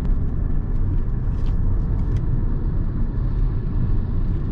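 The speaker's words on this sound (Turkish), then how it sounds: "Motorun sesi, alttan böyle turbonun sesini alıyorum" Steady low rumble of a 2014 Hyundai Elantra 1.6 engine under way on a mountain road, heard from inside the car, with a faint higher whine from the turbo and occasional small ticks over the drone.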